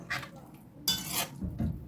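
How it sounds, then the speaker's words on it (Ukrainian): A spoon stirs stewed onions and water in a cooking pot, giving a few soft scraping and clinking strokes close by, with a brief louder swish in the middle. "перемішую, довожу до кипіння"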